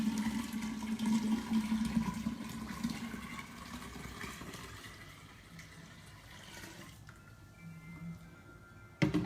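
Kombucha tea pours steadily into a brewing jar, a loud continuous watery rush that tapers off toward the end, with a brief clunk at the close.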